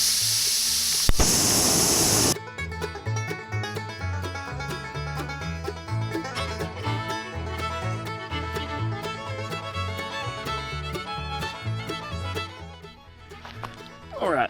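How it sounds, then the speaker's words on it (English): A torch flame scorches a patriotic wooden walking stick, giving a loud, steady hiss for about two seconds. It cuts off abruptly, and rhythmic background music carries on for the rest. "So let me go grab my torch."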